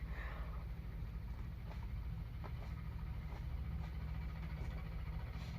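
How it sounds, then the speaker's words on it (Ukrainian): A steady low engine drone rumbles throughout, tractors driving past at a distance without rising or fading much. "Не знайшли більше на чому поїхати, вирішили на тракторах."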